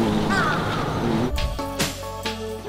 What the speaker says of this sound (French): Il y a trop de corbeaux dans ce pays.